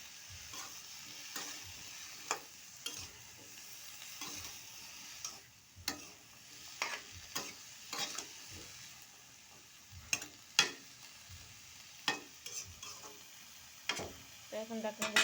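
Eggplant and potatoes fry in spiced oil in a pan, with a steady close sizzle under repeated stirring scrapes and clinks of the spoon against the pan.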